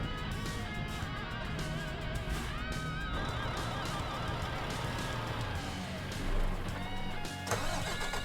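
A truck engine in Euro Truck Simulator 2 cranks and catches, then settles into a mid-pitched running drone that shifts and fades near the end as it stalls, heard close and fairly loud with no talking.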